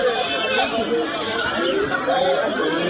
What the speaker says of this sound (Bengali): আর ছাগলের ব্যাবা শব্দে সবাই চলে যাচ্ছে